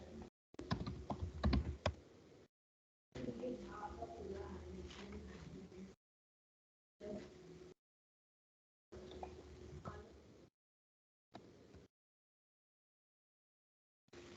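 Someone types on a computer keyboard in short, quiet bursts of clicking separated by silences, while pigeons or doves coo softly in the background.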